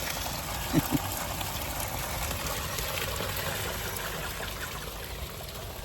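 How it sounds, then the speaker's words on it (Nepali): Water pours from a tortoise statue's mouth into a small pond, a continuous gentle trickling outdoors, with a couple of brief knocks near the start. "टर्टोइजको मुखबाट पानी आएको देख्नुपर्छ तपाईँले कहिले"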